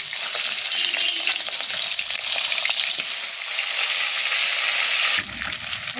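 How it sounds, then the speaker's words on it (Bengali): Fish heads rubbed with salt and turmeric sizzle loudly in hot oil in a kadai, a dense, continuous crackling hiss that holds steady for about five seconds before easing slightly, with no talking. "এরপর আমি নুন হলুদ দিয়ে মেখে রাখা মাথাগুলোকে ভেজে নেব।"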